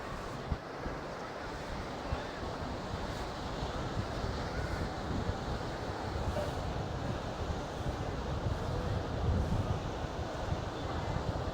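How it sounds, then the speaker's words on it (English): Steady wash of surf rolling in over a sandbank at Cromer beach, a continuous roar of waves with wind buffeting the microphone throughout. "Pretty good waves."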